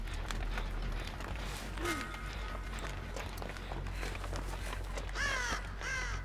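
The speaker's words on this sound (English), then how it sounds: "Shut up, crows." Crows caw several times in the Dead by Daylight video game, their harsh calls rising over a constant low ambient rumble with soft footstep-like thuds.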